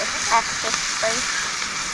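Food frying in hot oil in a pan over a campfire at a rainy mountain camp in Utah's Uinta Mountains, a steady close crackling sizzle with small pops and a brief scrape of tongs stirring.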